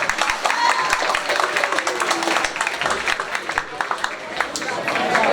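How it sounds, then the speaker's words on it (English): Audience applause fills a high school winter sports awards night, a dense steady patter of many hands clapping at moderate loudness with crowd murmur mixed in. "Another round of applause for all of you and our coaches"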